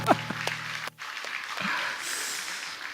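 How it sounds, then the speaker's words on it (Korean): An audience at a Korean church service applauds for the cast, the clapping swelling in the second half into a sustained, fairly loud roomful of applause after a brief quieter stretch. "우리 출연한 배우들 위해서 박수 한번 할까요?"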